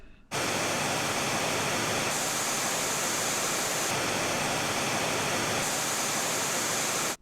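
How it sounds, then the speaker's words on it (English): Steady broadband hiss of pink noise played through wireless microphone systems, loud and unchanging, with slight shifts in tone at a few points across the run. "Let's listen to some pink noise from both systems for a second."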